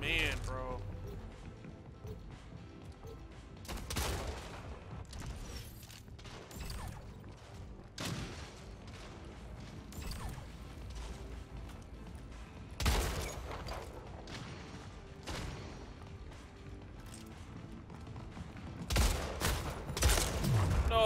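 Bursts of gunfire from the arena shooter game Splitgate: Arena Warfare arrive in several separate volleys with mechanical clicks between them, while a voice talks in the background.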